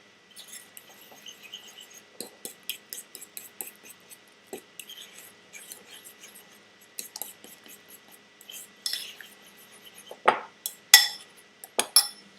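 Meatball mixture with Parmesan cheese is worked in a bowl, giving a run of soft scattered clicks and taps from a utensil against the bowl, growing louder and sharper near the end.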